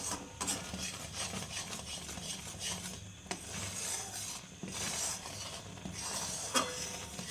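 A thick sandesh mixture is stirred in a pan, a soft scraping and rubbing of a spatula against the metal, close and quiet, with repeated strokes and occasional sharper scrapes.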